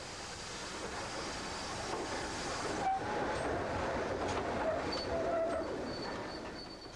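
A model railway train hauled by a GWR Bulldog class locomotive, Sedgemoor, rumbles steadily past with a soft rolling clatter, rising slightly as it nears, with faint whistle-like tones midway.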